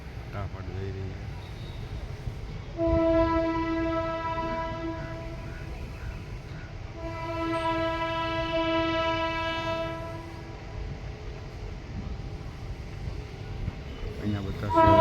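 A train passes close by with a steady rumble, and its horn sounds in two long blasts, one early and one in the middle of the passage. A person talks over the noise.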